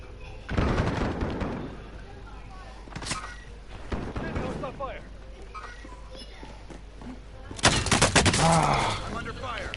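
Bursts of gunfire ring out in a team-based shooter video game: sharp volleys near the start, scattered shots through the middle and a dense burst near the end, mixed with players talking.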